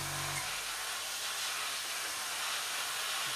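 Compressed air blown steadily over a 1/48 Eduard Su-25 scale model kit to dry it, a continuous broad hiss lasting throughout with no talk.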